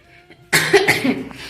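A woman coughs once, a short rough burst in a quiet home, with a faint voice-like hum just before it.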